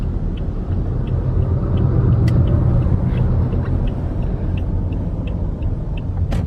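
An automatic car drives along a road with a steady low rumble of engine and tyre noise, close and continuous throughout, with faint ticking clicks above it.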